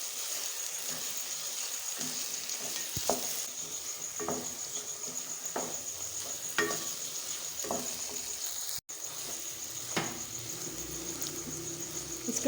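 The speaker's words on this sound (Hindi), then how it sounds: "इस तरह से हमने चम्मच चलाते हुए इसको भून लेना है" Egg dessert mixture roasting on low flame while a spoon stirs it: soft, steady sizzle with scattered light scrapes and taps of the spoon against the pan, close and quiet, no voices.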